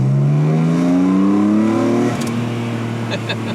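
Loud BMW E46 M3 engine revving up with strong airbox intake roar louder than the exhaust note, pitch climbing steadily, then easing off to a lower drone.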